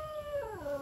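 A dog lets out a short howl that bends downward into a whimper, heard close and alone in under a second.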